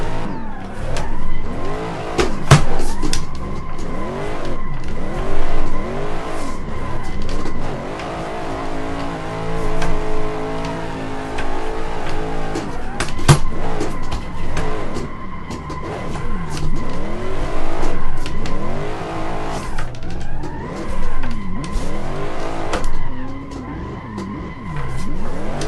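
A racing car laps a circuit in a video game driven with a Logitech G920 wheel, its engine revving up and down through gear changes with occasional tyre squeal, loud and continuous throughout.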